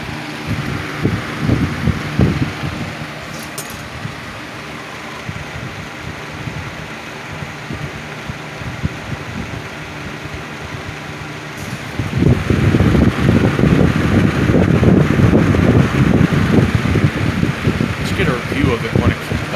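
A 1980s Patton box fan runs with a steady broadband whoosh of moving air, a hum underneath, and the airflow growing louder and rougher about halfway through as if heard from the back of the unit.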